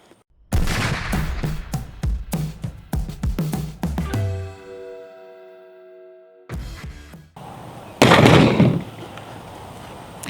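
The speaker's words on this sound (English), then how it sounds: "Gun, it go boom." Several sharp, loud gunshots from a Hi-Point C9 pistol ring out in quick succession, with a long fading ring-out after them, then more bursts of noise and one further loud blast near the end.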